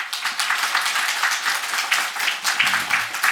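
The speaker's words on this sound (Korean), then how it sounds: "잠깐 격려의 박수 부탁드립니다" A church congregation at a Sunday morning service applauds a visitor, a soft, steady patter of many hands clapping for a few seconds, heard fairly distant and alone.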